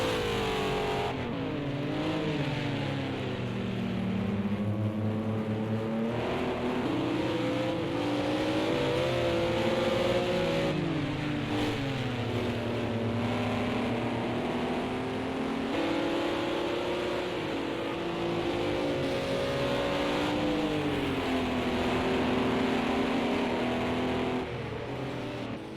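Formula Ford 1600 race cars in a racing video game give a continuous, loud engine drone whose pitch climbs and falls with gear changes and revving throughout, with no talk.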